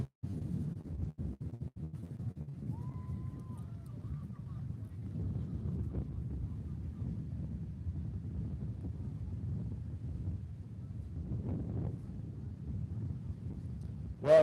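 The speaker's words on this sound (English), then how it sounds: "this wind is relentless right now, just blowing" Strong wind at the beach during a surf contest gusts across the microphone as a steady, low, rumbling buffet that lasts throughout, loud and close, with a faint voice briefly in the background.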